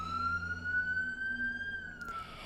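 An emergency vehicle siren wails close by in a single long rising tone that holds steady and then slides down, with a brief burst of noise near the end.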